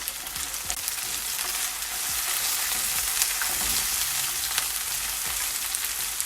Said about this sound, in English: you just want to saute them